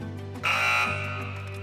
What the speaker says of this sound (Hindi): मैं बज़र्स एनेबल कर रहा हूँ